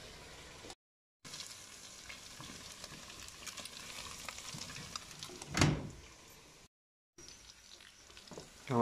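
Potatoes frying in a cauldron give a faint, steady sizzle throughout, with a brief louder rush midway and a couple of short gaps of silence.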